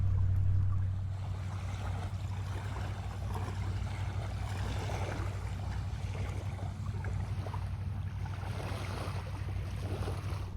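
Ocean waves wash steadily against an island shore at night, a continuous soft surf rumble with low steady hum beneath, no voices, slightly louder in the opening second.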